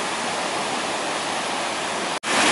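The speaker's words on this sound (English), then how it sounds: "water's absolutely gushing in. This is normally sort of just about full, but it's really overflowing" Flood water gushes into an overflowing pond at Queens Park in Crewe, a loud continuous rushing roar with a brief dropout near the end before it resumes.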